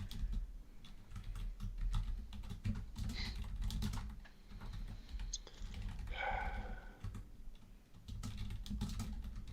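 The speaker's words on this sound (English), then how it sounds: "I don't know why I'm typing out the whole name." Quiet, steady typing on a computer keyboard, a rapid irregular stream of soft clicks with short pauses, close by and without talk.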